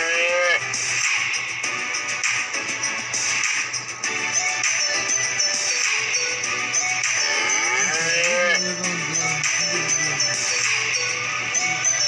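Cattle moo repeatedly in a farming simulation video game, drawn-out lowing calls layered over a constant game soundtrack and ambient hum, loud and continuous throughout.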